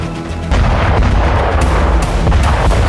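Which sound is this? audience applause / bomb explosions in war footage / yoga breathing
bomb explosions in war footage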